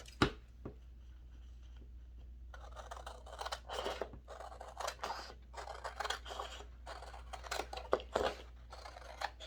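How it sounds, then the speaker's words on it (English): Scissors snipping paper triangles for rolled paper beads, a close, quiet series of crisp cuts and rustles coming in irregular bursts with short gaps, no talking. "you just cut the triangles out"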